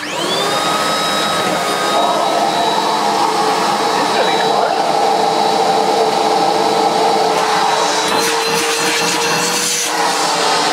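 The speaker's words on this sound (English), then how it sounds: "Let's see how well it vacuums." A Hoover Whirlwind WR71 vacuum cleaner runs steadily and loudly with a constant motor whine and airflow roar, with a few brief knocks and rustles near the end.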